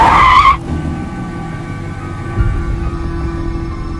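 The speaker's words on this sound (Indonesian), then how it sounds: "Melihat ayahnya pergi, God mengejarnya dengan menggunakan mobil" A car in a film chase scene skids with a brief, loud tire squeal that cuts off abruptly, then gives way to a low, steady engine rumble and road noise.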